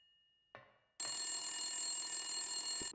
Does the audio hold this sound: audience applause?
no